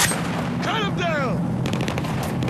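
Gunfire in the video game Battlefield 4, a burst of shots with echoing whistles and booms layered over background battle noise, with a voice calling out briefly.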